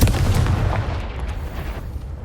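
A Confringo explosive spell goes off in Hogwarts Legacy as a deep, booming blast right at the start. It rumbles and fades away over about two seconds, with no voices.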